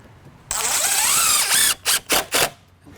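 A screw gun drives in reverse on a deck build, first as one long high whine, then as three short bursts, loud and close.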